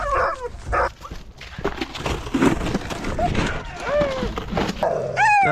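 Several sled dogs bark and whine excitedly nearby while being harnessed, with yelps and rising whimpers overlapping amid shuffling and occasional human voices.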